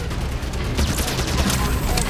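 Gunfire aimed at cannons in the Halo 5: Guardians video game, rapid shots and booms in a continuous, loud battle din with a voice talking over it.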